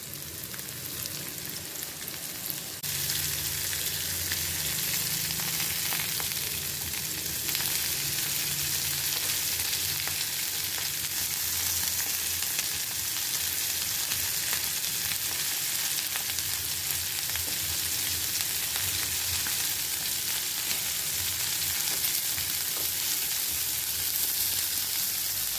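Prawns frying on a medium flame, a loud, steady, dense sizzle that fills the whole stretch, with occasional faint stirring touches underneath.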